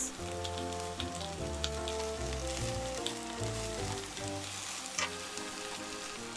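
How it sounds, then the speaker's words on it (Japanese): Shimeji mushrooms stir-fry in a pan, a soft continuous sizzle with scattered crackles and pops over faint background music, no talking. "しめじを炒めます。 香りが立つまで炒めます。"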